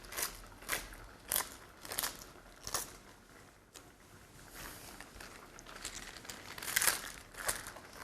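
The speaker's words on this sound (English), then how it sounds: "Next we'll go for a little spinach. Same thing, we'll just tear these gently." Fresh spinach leaves are torn gently by hand, giving close, crisp ripping and crinkling bursts in an uneven rhythm with no talking.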